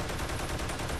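An upgraded turret in Toy Soldiers: War Chest fires continuously, a dense, even stream of rapid shots with no pauses and no voices.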